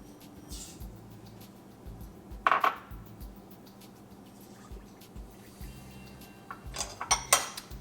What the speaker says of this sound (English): Next, we'll add the rice and the sugar to the Instant Pot.